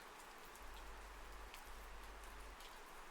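Steady rain patters down, a dense soft hiss of drops with a low rumbling undertone, continuous and even with no voices.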